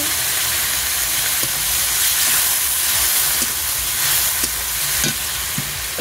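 Ginger, garlic and dry chili paste fry with tomato in a pan for a village-style chicken curry, a loud continuous sizzle and hiss with occasional soft stirring clicks.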